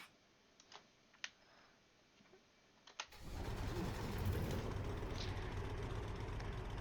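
A car in the Roblox game Greenville starting up: a few soft clicks, then the engine catches abruptly and settles into a steady, fairly loud idle rumble that holds to the end.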